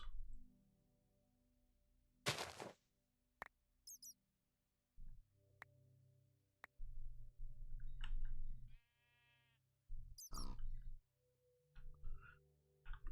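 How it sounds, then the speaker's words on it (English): Sheep in modded Minecraft give a few short, sparse bleats amid other scattered animal noises and quiet game ambience, with gaps of silence between. "Pigs, we have sheep, we have more pigs."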